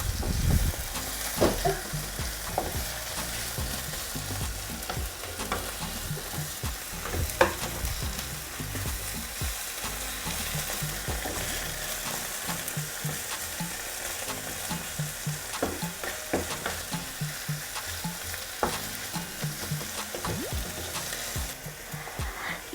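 Meatball sauce with tomato paste fries in a pan, a continuous close sizzle broken by frequent stirring scrapes and knocks of a utensil throughout.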